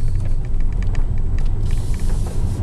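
A Tesla Model S P85 electric car drives and accelerates on the road in Orkney, giving a steady, loud, low rumble of road and motor noise throughout, with no talking.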